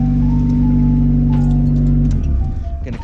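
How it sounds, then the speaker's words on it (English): A 1.6-litre Mazda Miata engine idles close by with a steady, even hum, then the tone drops away as it is shut off. "Motor sounds good."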